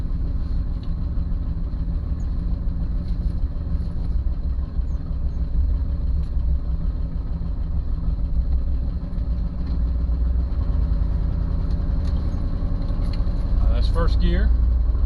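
A 1977 Mercury station wagon pulling away, its engine a steady low rumble running the whole time, with a brief jingle of keys or rattling near the end.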